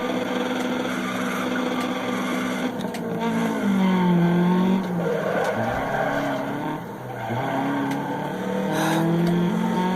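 Rally car from the Dirt Rally video game racing a stage in Germany, engine revving steadily with skids and tire noise throughout, loud and continuous, with a faint household background hum.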